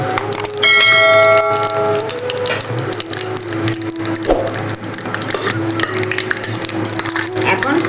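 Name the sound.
whole dried red chillies and black cumin frying in oil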